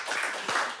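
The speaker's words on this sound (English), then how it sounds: "That deserves a round of applause." A television studio audience on a Christmas Day cookery show applauds, a short burst of clapping under a second long at moderate volume.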